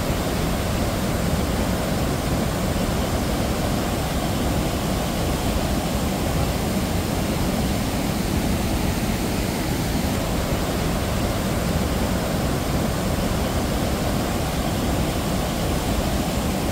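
Bhatinda waterfall, where two rivers meet among large boulders, roars as a loud, dense, unbroken rush of falling water, steady throughout with no voices.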